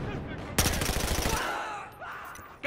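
Rapid automatic gunfire in Battlefield Hardline team deathmatch, a loud burst of close shots in quick rhythm lasting about a second, then fading into a decaying echo and ambient noise.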